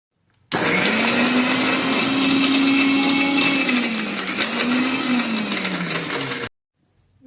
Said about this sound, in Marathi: लसूण आलं कोथंबीर थोडेसे जिरे हे आता आपण बारीक करून घेऊया